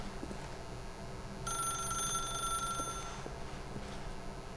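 In The Stanley Parable, a telephone rings with a bright electronic trill, one sustained burst lasting about a second and a half over a quiet ambient hum.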